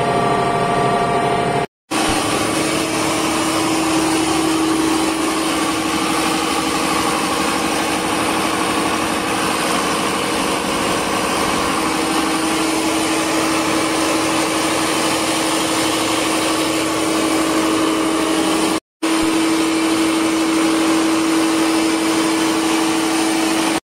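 Inside a merchant ship's engine room, the large number 1 generator runs with a loud, steady mechanical roar and a constant droning hum, continuous for the whole stretch with no speech.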